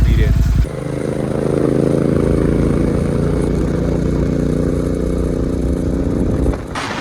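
A 650 cc motorcycle engine drones steadily and loudly up close while being ridden, a continuous throaty hum running for several seconds before it cuts off near the end.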